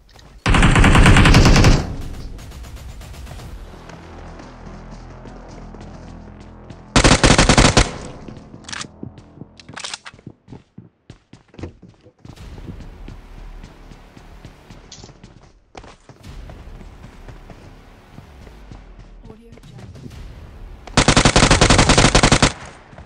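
Automatic weapon fire in BGMI / PUBG Mobile: loud bursts of rapid shots near the start, around seven seconds and at the end, separated by scattered single cracks, footsteps and quieter in-game ambience.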